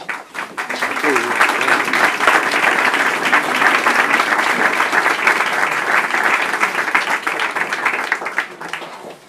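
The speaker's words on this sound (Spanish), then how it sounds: "Un aplauso." Loud, sustained audience applause fills the room at a Spanish book presentation for the novel "Memoria Involuntaria", dense clapping from many hands rising quickly and holding steady for about nine seconds with some voices mixed in before easing off.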